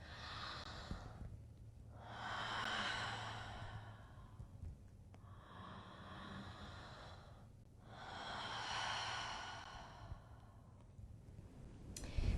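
Slow, deep breaths during a guided meditation, each long soft inhale and exhale rising and falling in a calm rhythm, faint and close, with no talking.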